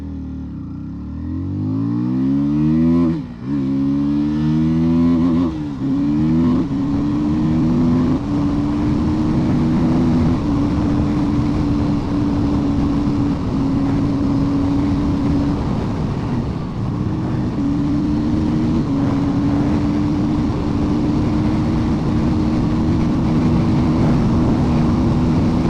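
A KTM Duke 160 motorcycle pulls away and accelerates in first gear, the engine note climbing in repeated rising sweeps before settling into a loud, steady drone with wind rush, heard up close throughout.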